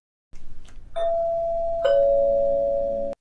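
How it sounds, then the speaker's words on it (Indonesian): A house doorbell rings twice indoors, each press giving a loud, clear sustained electronic chime tone that rings on, preceded by faint knocking-like taps. "terdengar bel berbunyi lagi."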